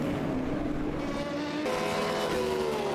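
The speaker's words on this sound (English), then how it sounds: "there goes Nello Pastorino in the Moradness eStars car, flying through" A hypercar in a sim racing endurance event at Sebring roars past, its engine note rising and then shifting pitch as it flies through, steady and fairly loud with no talk.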